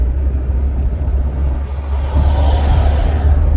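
A Mercedes-Benz 230 CE drives along a road, heard from inside as a loud, steady low engine and road rumble that swells slightly partway through, with no talk over it.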